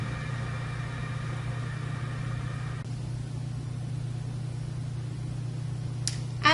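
A laboratory centrifuge rotor winds down inside the machine, a steady low hum with a fading whine that drops away partway through, ending in a brief clatter.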